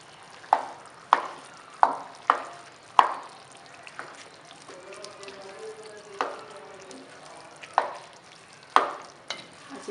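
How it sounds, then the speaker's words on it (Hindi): Mashed potatoes mixed with spices in a pan, where a spoon knocks the pan in sharp, regular taps about every half second, with a brief pause of softer scraping midway. "हमने आलू को अच्छी तरह मिक्स कर लिया मसाले में"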